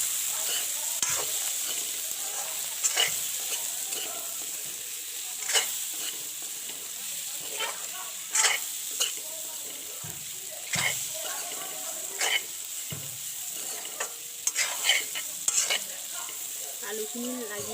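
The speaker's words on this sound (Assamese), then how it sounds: "আৰু লৰাই দিব।" Egg paneer curry being stirred in a pan, a spoon scraping and knocking in steady intermittent strokes over a soft continuous sizzle, close and moderately loud.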